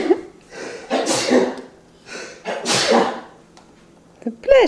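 A man sneezes indoors, a sharp burst followed by another sneeze a moment later, with a voice speaking around them in a home setting.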